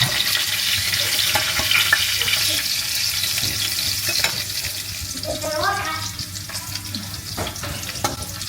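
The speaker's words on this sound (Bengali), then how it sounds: "মাছ ভাজা হয়ে গেছে, এখন নামাই নেব।" Salmon pieces fry in hot oil with a continuous moderate sizzle and occasional stirring or scraping sounds, heard close up with no voices.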